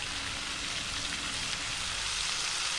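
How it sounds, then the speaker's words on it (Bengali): Spice paste for a kakia fish curry fries in hot oil, giving a steady, close, continuous sizzle with no talking over it. "মশলাটাকে ভেজে নেব ভালোভাবে"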